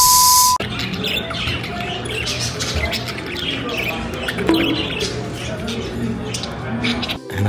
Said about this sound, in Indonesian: dia itu kayak kafe, tapi kafenya itu ngasih makan burung gitu guys